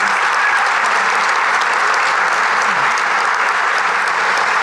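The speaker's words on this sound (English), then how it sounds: "you should give yourself a round of applause" Sustained, dense applause from a large audience at an Alamo Bowl luncheon with Colorado football players and coaches, loud and steady throughout with no voices rising above it.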